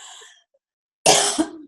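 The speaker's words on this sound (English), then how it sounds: "when I cough, I apologize for that" A single cough from a podcast guest with a mild cold: a faint breathy tail at first, then a loud, harsh cough close to the microphone after a short silence.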